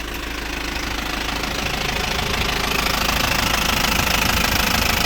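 A 2.8-litre diesel engine idles steadily with a rough, knocking clatter and constant rumble, close and loud throughout.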